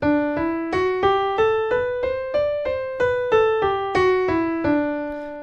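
A keyboard plays a D Mixolydian scale one note at a time, stepping steadily up then back down in even rhythm, each note clear and sustained.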